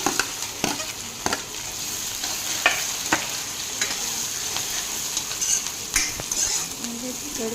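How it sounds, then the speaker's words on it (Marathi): Onions sizzling in hot oil with cumin and mustard seeds for besan, a steady frying hiss with regular spoon scrapes and taps against the pan, close and moderately loud, no voices. "यामध्ये मी आता कांदे घालत आहे"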